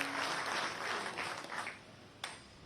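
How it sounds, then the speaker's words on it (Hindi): Audience applause at a political rally in Bhopal, a fairly steady wash of clapping that thins out toward the end, with one sharp louder clap or knock near the close and no talk over it. "एक बार जोरदार तालियां बजाकर उनका स्वागत करें।"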